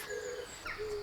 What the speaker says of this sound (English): hooted the wise owl